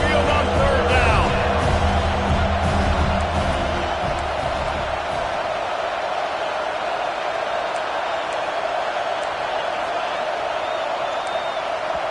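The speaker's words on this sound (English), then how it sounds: "The Tide crowd rolling noise down onto Saban Field on third down" Alabama Crimson Tide fans roar at Saban Field on third down, a loud, continuous stadium crowd swell that is fullest at the start and then settles into a sustained wash of cheering.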